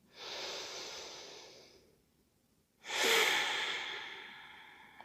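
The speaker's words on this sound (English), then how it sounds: "Breathing." Two slow, deep breaths during a gentle standing foot and lower-leg stretching routine: a long, airy exhale, a short pause, then another strong breath close to the mic that trails off softly.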